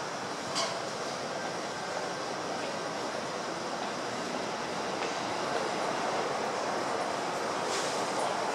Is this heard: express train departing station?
yes